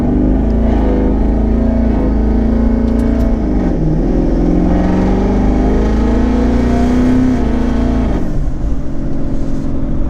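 Twin-turbo 2019 Ford Mustang GT with a truck-style torque converter accelerating on the street, a loud steady engine drone with rising pitch, a brief dip around the middle and a shift near the end.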